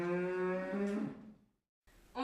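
A cow out in open countryside near railway tracks gives one long, close, lowing moo that slides downward and fades into silence, then a second moo starts abruptly at the end.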